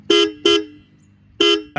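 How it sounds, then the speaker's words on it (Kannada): Three short, loud blasts from a Royal Enfield Meteor 350's dual-tone horn, two in quick succession, then a pause before the third. "ಡ್ಯೂಯಲ್ ಹಾರನ್ ಬರುತ್ತೆ ಆ್ಯಂಡ್ ಅದು ಕೇಳಲಿಕ್ಕೂ ಕೂಡ ಸ್ವಲ್ಪ ಲೌಡಾಗಿರುತ್ತೆ"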